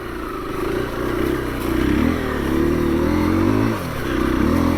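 A 2021 KTM 350 EXC-F four-stroke dirt bike on its first ride drones loud and close, its engine note rising and falling through repeated throttle changes, with light clatter from the chassis.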